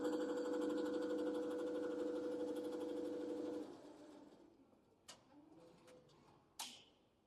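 An embroidery machine stitches the first part of a patch border, a rapid, steady mechanical chatter for several seconds that then stops, followed by a few faint clicks and a light clack.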